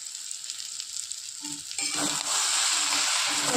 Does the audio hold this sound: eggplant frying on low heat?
yes